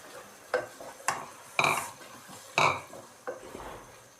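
Peas frying with chicken in a pan while being stirred: a faint sizzle beneath sharp, intermittent scrapes and clinks of a utensil against the pan, about six distinct strikes, no talk.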